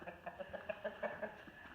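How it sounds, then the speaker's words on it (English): Chickens on a muddy farm cluck softly in a quick run of short, repeated notes, faint and close together, with no talk over them. "There's chickens."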